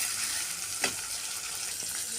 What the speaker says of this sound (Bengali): টমেটোটাকে ভালো করে সেদ্ধ করে নেব।